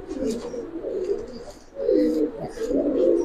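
Pigeons on a pigeon farm give deep, throaty coos in repeated rolling phrases, fairly close and clear, with faint background noise and no talking.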